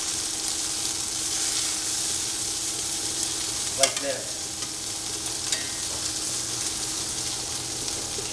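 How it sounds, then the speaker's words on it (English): Chicken searing on one side in a hot pan, giving a steady loud sizzle with a few light scraping and stirring clicks, and a brief spoken phrase over it. "So we're only going to sear it on one side,"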